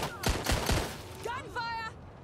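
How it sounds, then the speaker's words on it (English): Gunfire in the video game Watch Dogs: Legion: a quick burst of three or four sharp shots early on, followed by beeping electronic game tones and effects. "Gunfire!"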